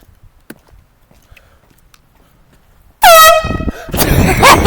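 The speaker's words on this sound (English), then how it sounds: "so we're gonna get them with an air horn" A loud, sudden air horn blast from a prank, after a few seconds of near silence and faint footsteps, followed by a second burst with commotion.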